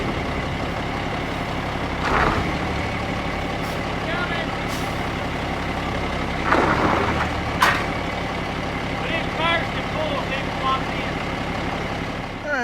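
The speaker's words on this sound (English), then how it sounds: "I'll let the air out of the airbags" Air hisses out of a truck's airbag suspension at a wheat-loading stop, with several sharp bursts of release over the steady drone of the idling truck.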